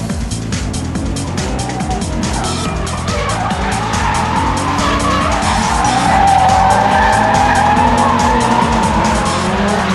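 Cars drifting in tandem on a skid pad at Meihan in Japan, engines revving hard under loud, sustained tire squeal and skidding that rises and swells throughout, close and intense.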